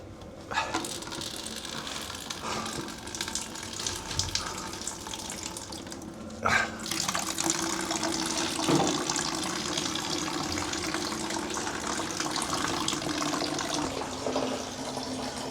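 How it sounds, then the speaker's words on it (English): Water pours and splashes steadily as it is emptied out of the stern of a steel boat under repair, a continuous close rushing flow with a brief clatter partway through. "let me just try and empty all that water"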